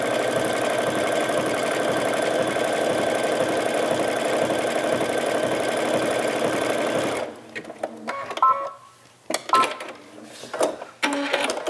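A sewing machine stitching scrap fabric runs in a fast, steady mechanical whir for several seconds, then stops, leaving scattered clicks and handling noises of the fabric being adjusted.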